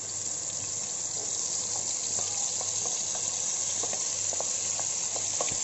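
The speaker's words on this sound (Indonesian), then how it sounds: "Ini kan kita tumis nih untuk kuah gado-gado." Chili is sautéed in a pan for gado-gado peanut sauce, with an even frying sizzle under a hissing background and scattered light stirring clicks, close and moderately loud, with no talking.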